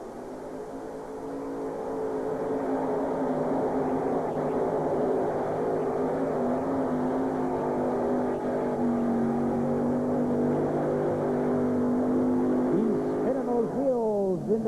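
A pulling tractor with three supercharged 497-cubic-inch alcohol Chevrolet engines roars at a Morris tractor pull, a sustained loud droning rev that holds steady before the pitch wavers and shifts near the end.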